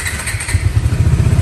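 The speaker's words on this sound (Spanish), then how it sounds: "prendemos de nuevo la moto" A motorcycle engine sputters, catches and settles into a steady, throbbing idle close by, loud and unbroken.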